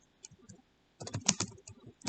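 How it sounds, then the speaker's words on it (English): Quick bursts of keystrokes on a computer keyboard, close and crisp, in uneven clusters with brief pauses between them and no talking. "Wow, my typing is horrendous right now."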